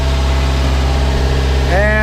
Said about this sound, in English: And there's the engine.